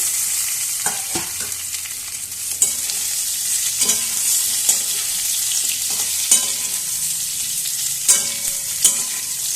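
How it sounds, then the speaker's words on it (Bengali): Boiled jackfruit seeds and potatoes frying in a pan make a steady, loud sizzle broken by occasional stirring scrapes and clinks, close by with no voices. "খুব ভালোভাবে একবার ভেজে নিচ্ছি"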